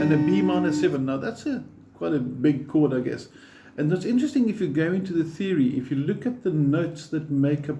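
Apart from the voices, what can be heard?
No everyday noises stand out.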